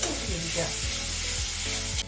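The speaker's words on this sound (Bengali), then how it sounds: "এটা একটু ভাজা ভাজা হোক" Soya keema sizzling and frying in a home kitchen pan, a steady close hiss with light stirring scrapes running throughout.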